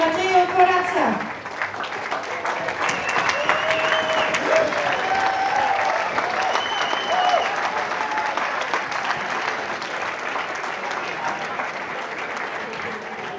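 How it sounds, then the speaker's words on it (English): Audience applause at the opening ceremony of the European Youth Championships 2021 in Tilburg, Netherlands, a steady sustained clapping from a large crowd lasting throughout, with some cheering and voices mixed in. "A big applause for Matteo Corazza."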